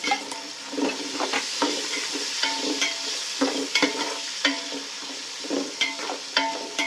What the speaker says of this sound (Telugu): ఇవి బాగా ఫ్రై అవ్వనివ్వాలండి.